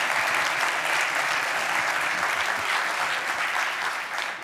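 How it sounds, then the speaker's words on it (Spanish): A crowd at a radio station's 90th anniversary gala gives a radio listener strong applause, thick and continuous, tapering slightly at the very end. "Un aplaudiment a la Maria, sisplau."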